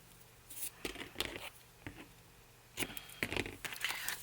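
Scissors trim paper for a torn-edge journal project, giving soft, close snips and crinkles in two short clusters separated by a quiet pause.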